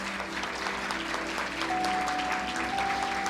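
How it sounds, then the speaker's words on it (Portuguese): A church congregation applauds together in sustained, even clapping that sounds somewhat distant and soft, with a faint steady hum underneath. "Vamos dar uma salva de palmas a Jesus."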